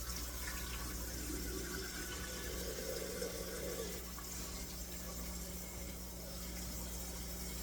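Tap water runs steadily into a kitchen sink while potatoes are rinsed, a faint, constant hiss and splash with no speech over it.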